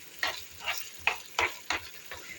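Minced meat filling sizzling in a pan, broken by about six rhythmic scrapes and stirs of a utensil, close up and moderately loud with no voices.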